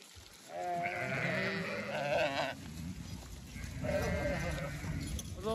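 Several sheep bleat in wavering, drawn-out calls, a couple overlapping at once, with a pause between bursts and some low rustling underneath.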